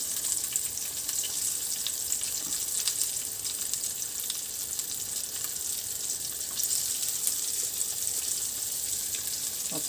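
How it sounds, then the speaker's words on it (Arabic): Floured tilapia frying in hot oil, a continuous bright sizzle and crackle holding steady throughout, close and loud with no talking. "هنزل بقى كده في الزيت"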